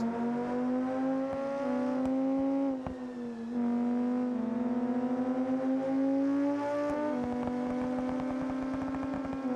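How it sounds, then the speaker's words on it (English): A Formula 4 race car in BeamNG.drive at Suzuka Circuit holds a loud, steady high engine whine, stuttering against the rev limiter with brief dips and surges, heard alone and close as from onboard. "That is the car hitting the rev limiter"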